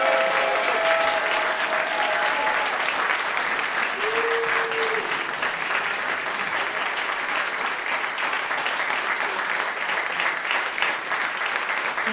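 A studio audience at a live radio music show claps steadily for over twelve seconds, dense even applause with a few faint voices and cheers mixed in.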